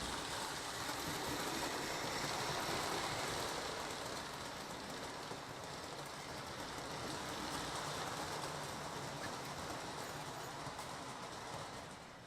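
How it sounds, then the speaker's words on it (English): An O gauge Blue Comet model train runs on a layout with steam sound effects, giving a continuous, fairly faint rolling rumble with soft rhythmic chuffing and clatter throughout. "And it's got sounds of steam."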